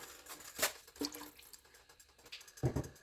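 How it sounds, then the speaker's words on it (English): Water splashes into an emptied enchilada sauce can to rinse it out while making chicken enchilada soup: a few short, quiet splashes and trickles, the last burst the fullest, with near silence between them. "I'm going to use a little bit of water to rinse that out."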